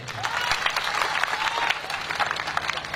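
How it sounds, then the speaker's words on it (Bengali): A crowd at a live music performance claps together in steady applause, a dense patter of many hands, moderately loud and sustained for a few seconds. "একটা হাততালি চাই"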